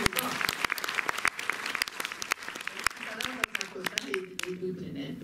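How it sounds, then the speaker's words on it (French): An audience at a Montreuil cinema applauds a guest, with distinct close hand claps over a broader crowd, while people talk over the clapping and it begins to fade toward the end. "Vous pouvez applaudir Michel"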